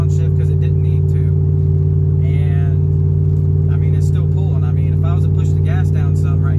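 A cammed Ram 1500 pickup engine tows a load uphill, holding a loud, steady low drone without downshifting. Someone talks over the engine.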